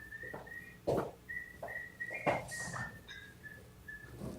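Someone whistles a short, light tune of separate notes, with some soft rustling and clunking movement sounds around it.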